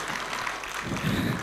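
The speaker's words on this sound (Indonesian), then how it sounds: "Tepuk tangan dong buat Mbak Titin" An audience at a talk show applauds for a guest, a dense burst of crowd clapping that swells in its final half second, with faint voices mixed in.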